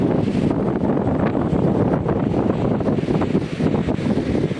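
Strong, gusty wind blows along an Italian seashore, producing a loud, constant buffeting roar against the microphone throughout, with no pauses.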